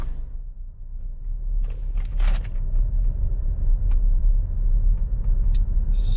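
A 2019 Jeep Compass with the 2.4 engine on a test drive: steady low engine and road rumble close by, with a few brief clicks and rattles from the cabin and no talking.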